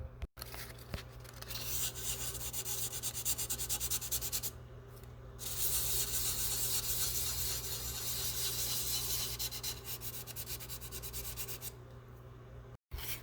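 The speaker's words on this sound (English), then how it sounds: "we start like wet sanding and just try to get this shiny" Fine-grit sandpaper wet sands a repaired sparkle paint finish on a guitar body, with close, steady rubbing strokes in long continuous runs and short pauses, over a low background hum.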